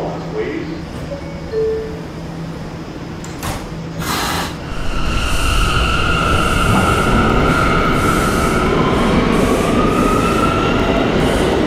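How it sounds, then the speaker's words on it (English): An R179 subway train on the B line in a Roblox game rumbles loudly and continuously, with squealing wheel tones rising midway; a voice speaks over the early part. "This is a West Patat-bound B train."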